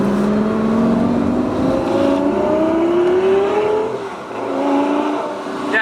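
A straight-piped Lamborghini Gallardo Superleggera engine pulling through light throttle from inside the car, a loud rising drone that climbs steadily, dips briefly, then resumes.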